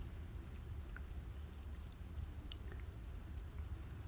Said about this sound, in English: Is it raining on your little body?